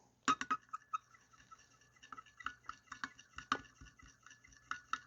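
Small sharp clinks and ticks of a stirrer hitting a container while flake is mixed into laminate color, a rhythmic series of light glassy taps up close.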